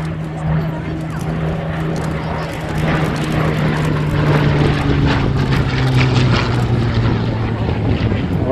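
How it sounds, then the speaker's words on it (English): A Battle of Britain Hawker Hurricane fighter passes at an airshow, its propeller engine giving a steady, loud drone with a sustained low hum that swells slightly, while a commentator speaks over the public address. "What you're looking at there, ladies and gentlemen, that is your actual Battle of Britain hurricane."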